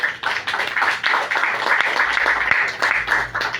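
Steady applause from a church congregation at a Good Friday service, broadband and sustained for several seconds with a low hum beneath, no talking over it.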